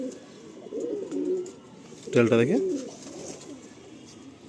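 A Madrasi pigeon gives one short, throaty coo midway, close by, while someone talks over a low background murmur.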